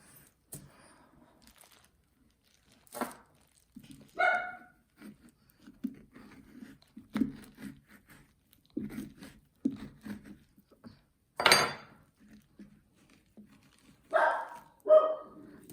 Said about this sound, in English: I don't know what she's barking at, but she is barking.